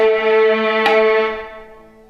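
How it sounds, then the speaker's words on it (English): A single sustained musical whole note rings steadily with rich harmonics and slowly fades, with one sharp metronome click sounding partway through. "there was that one note, and you heard the 4 metronome clicks"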